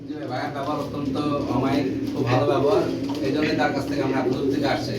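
Pigeons for sale coo steadily in a low, throaty murmur, close by, while people talk over them throughout.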